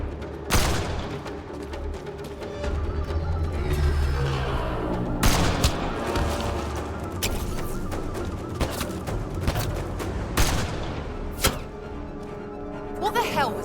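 Rapid gunfire from a firefight in Mass Effect Andromeda, loud sustained volleys and sharp bursts layered with booms and impacts, with voices shouting over the shooting.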